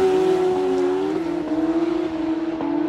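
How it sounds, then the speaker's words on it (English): Hayabusa motorcycle drag racing against turbocharged two-stroke snowmobile drag sleds at a motorcycle and snowmobile drag event, a loud steady engine drone with shifting pitch, no talking. "Hayabusa now taking on the leader bike"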